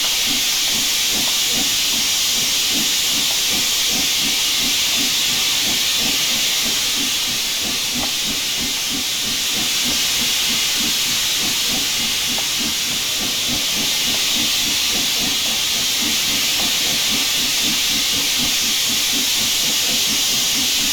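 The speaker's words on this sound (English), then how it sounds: "Boy, cylinder cocks are loud." Loud, steady steam hiss from the open cylinder cocks of an SR V Schools 4-4-0 steam locomotive in Train Simulator Classic, a continuous roar of escaping steam with a faint rhythmic chuffing underneath for the whole stretch.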